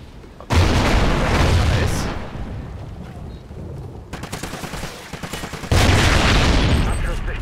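Bursts of AK assault rifle fire in the multiplayer shooter Call of Duty: Ghosts, loud sustained volleys with a short lull of scattered rapid shots between them, dense and close.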